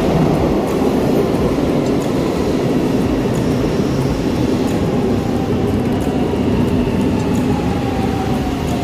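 An underground train on the Milan metro rumbles into a station, a loud, continuous roar with rattling and a faint rising squeal of wheels on rails.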